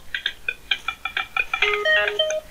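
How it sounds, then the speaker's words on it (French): A repeating electronic ringtone of short, bright melodic beeps, rising and falling in quick bursts, heard alone at moderate volume. "Téléphone qui sonne."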